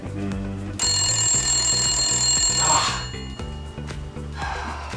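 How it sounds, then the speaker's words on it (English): A house phone rings loudly with a bright, electronic ringtone that holds for about two seconds and then fades, set over a steady, rhythmic musical backing. "John, answer the phone!"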